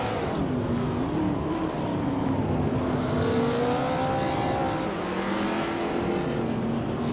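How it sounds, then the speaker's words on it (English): A 1969 Chevrolet Corvair race car engine in a racing video game drones steadily throughout, its pitch shifting as it revs and holds, loud and continuous with no talking. "Ruki Miriki is racing a 1969 Chevrolet Corvair."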